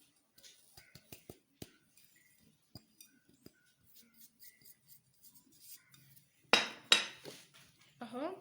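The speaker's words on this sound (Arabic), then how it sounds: "النشا نقلب كويس جدا في الخلطة" A spoon stirs starch into a cauliflower and egg mixture in a bowl, making scattered light clinks and taps against the bowl, followed by a louder burst of wet scraping near the end, close and quiet overall.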